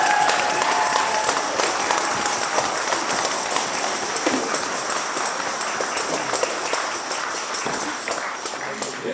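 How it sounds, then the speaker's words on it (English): Wedding guests give a sustained round of applause after the speeches, a dense, loud wash of clapping from a large crowd that holds steady and fades slightly toward the end. "give it up everyone one more time for Daisy and Katie."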